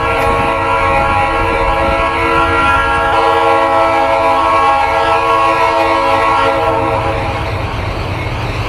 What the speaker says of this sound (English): the railroad will continue to pass by here and punctuate your interpretive experience.